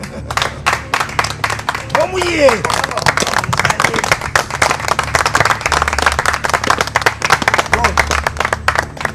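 A crowd of people clapping in quick steady rhythm at an Asante Twi event in Ghana, loud and close, with a voice calling out over a low droning background.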